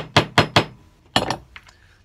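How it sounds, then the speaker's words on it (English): A small hammer taps brass bolsters into holes in a bushcraft knife handle made from a sawmill blade. Three quick, sharp, close taps come first, then a louder fourth strike after a short pause, with faint clinks trailing off. "gently seat them with a small hammer"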